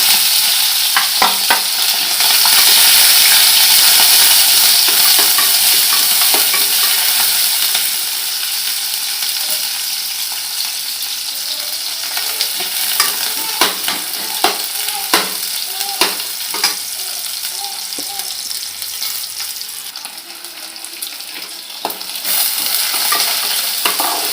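Finely chopped onion fries in hot oil in a pan for a village-style garam masala chicken rassa, with a steady bright sizzle throughout and frequent sharp scrapes and clinks of stirring; no voices.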